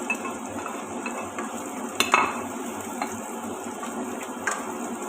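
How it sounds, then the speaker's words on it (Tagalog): Garlic and onion sautéing in melted butter in a pan, with a steady soft sizzle under scraping stirs and a couple of sharper utensil clinks against the cookware, no one speaking. "habang tinutulo ko yung butter, lagay ko na yung bawang. Then, in-mix ko na yung sibuyas"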